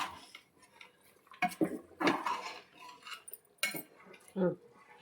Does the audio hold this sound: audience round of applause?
no